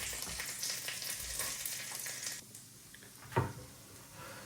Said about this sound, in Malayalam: ഇതിലേക്ക് ഗാർലിക്ക് ഇട്ട് കൊടുക്കാം.